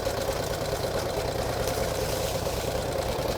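Engine of a 1949 Harley-Davidson Enduro Panhead motorcycle running steadily at low speed while creeping downhill, a continuous close rumble with a fast throbbing pulse.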